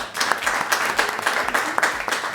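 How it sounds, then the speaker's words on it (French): Audience applause for Laura Tokmakov at an afterwork talk on the future of jobs, a short stretch of steady, moderately dense clapping from a modest crowd. "on peut applaudir aussi Laura Tokmakov"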